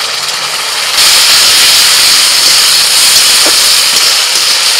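Garlic and ginger paste frying in a pan after onions in a village picnic cooking pot, a loud steady sizzling hiss that jumps up after the first second and holds throughout, with no talking.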